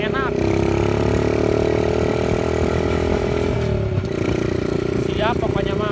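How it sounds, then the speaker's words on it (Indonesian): Chopper motorcycle fitted with a moped engine, running with a steady buzzing drone that holds close and loud throughout, briefly dipping in pitch midway before resuming. "Nah John, ini motor enak masih, walaupun mesinnya bebek dibawa kebut masih enak."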